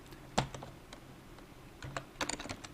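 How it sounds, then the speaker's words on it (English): Typing on a computer keyboard, a quick scatter of close, crisp key clicks in two short bursts over a low steady hum. "I'm just going to type the word page"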